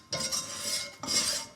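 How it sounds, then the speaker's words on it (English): Flour being stirred into melted butter in a pan: two soft scraping strokes with a light metallic scrape, close and fairly quiet, with no talking. "stirring is perfect to remove the raw taste from the flour"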